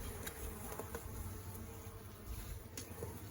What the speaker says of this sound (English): There's just just a few bees on here